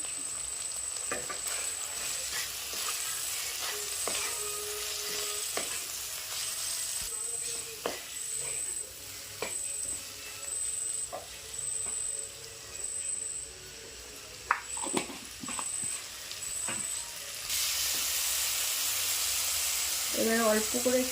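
Spice masala of chilli, cumin and turmeric powder being sautéed in a pan, with a steady sizzling hiss and occasional stirring scrapes over about twenty seconds, getting louder near the end as a splash of water hits the pan.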